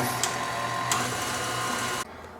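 An electric hand mixer whips egg yolks with sugar on medium speed for a tres leches cake batter, giving a steady, loud motor whir that cuts out abruptly near the end.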